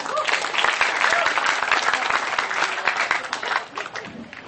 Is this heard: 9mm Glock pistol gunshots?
no